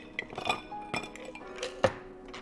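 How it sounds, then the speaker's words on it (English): Ice cubes clink and knock into an old fashioned glass for a Bartender Old Fashioned riff, a few sharp close glassy taps scattered over a couple of seconds with no talking. "Now add some ice to your old fashioned glass"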